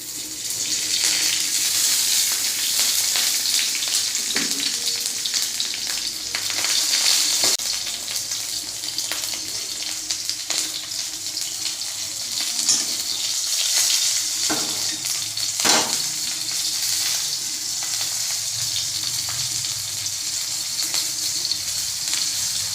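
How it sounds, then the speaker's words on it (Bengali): Panch phoron and green chillies sizzle in hot oil in a home kitchen, a steady hiss of frying that runs continuously for over twenty seconds with faint clinks and stirring, no voices heard. "ফোড়নে পাঁচ ফোড়ন কাঁচা লঙ্কা দিলাম"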